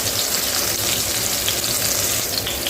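Bitter gourd fries in hot oil for a spicy tamarind kuzhambu, giving a dense, continuous crackling sizzle that stays loud and even throughout, with no voices.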